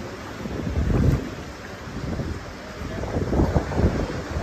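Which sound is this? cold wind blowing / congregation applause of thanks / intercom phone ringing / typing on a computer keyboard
cold wind blowing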